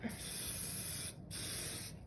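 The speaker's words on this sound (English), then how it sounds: "And then I just spray it" Hairspray hisses onto teased cheer hair in two steady bursts separated by a brief pause, close and fairly soft, with no talking.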